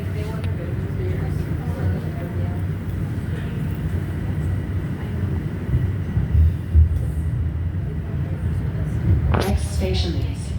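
A Toronto subway train on Line 4 toward Sheppard-Yonge Station rumbles steadily from inside the car, a low continuous drone with faint voices over it.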